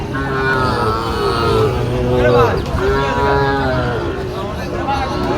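Sahiwal cattle at a crowded village cattle market in Dinajpur low repeatedly in long, wavering moos amid a busy hubbub of many voices.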